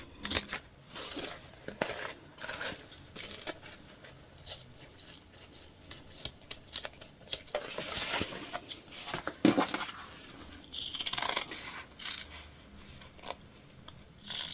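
Scissors snip repeatedly through excess fabric while trimming the edges and corners of a quilted highland cow panel pouch, a series of short, crisp close-up cuts with small rustles of cloth between them.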